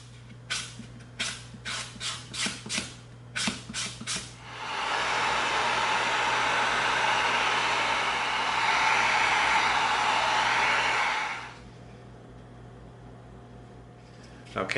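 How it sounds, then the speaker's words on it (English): EVA foam is sanded by hand with 80-grit sandpaper in a string of short scratchy strokes, followed by a long, loud, steady whooshing hiss that stops abruptly, with a faint hum beneath. "now let's come in with our 80 grit sandpaper"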